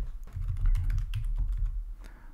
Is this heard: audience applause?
no